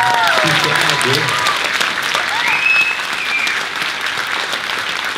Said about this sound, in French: Mais applaudissez-les